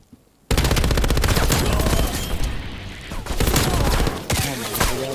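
Sentry gun firing in a Call of Duty multiplayer match, dense sustained automatic fire that starts abruptly and continues loud and close with a brief lull near the end, with faint voices underneath.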